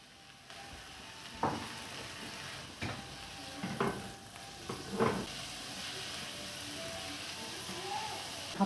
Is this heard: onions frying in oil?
yes